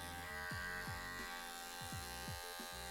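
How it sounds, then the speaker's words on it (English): Electric hair clippers buzz steadily while cutting hair clipper over comb around the perimeter of a haircut, the loud motor drone dipping in pitch in repeated short strokes as the blades bite into the hair. "working around the perimeter, clipper over comb"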